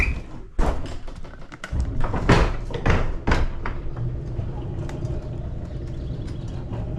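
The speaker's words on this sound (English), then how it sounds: "Get the door opened up here." A shed door being opened on a farm, giving a burst of loud knocks, thuds and scrapes over the first few seconds before settling into a steady low rumble.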